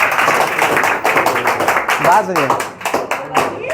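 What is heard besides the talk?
audience clapping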